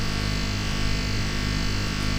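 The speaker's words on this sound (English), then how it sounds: "So anyway, granulizer just sounds like this." Granular synthesizer texture built from motorcycle recordings, a dense steady buzzing hum with layered tonal drone, loud and unbroken before cutting off abruptly at the end.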